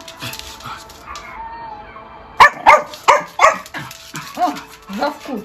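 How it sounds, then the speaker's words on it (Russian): A small dog barks in a series of sharp yaps in reaction to recorded dog barking played nearby, with soft whimpers and people talking in the background. "включили лай собак, и она теперь гавкает"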